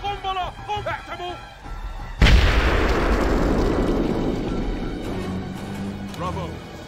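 A frag grenade detonates in the tactical shooter Full Spectrum Warrior, a sudden loud blast that rolls into a long fading rumble mixed with gunfire, with soldiers shouting before and after.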